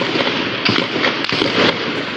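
A single sharp gunshot-like crack rings out amid a dense, noisy outdoor wash, with a few other quick popping bursts close by.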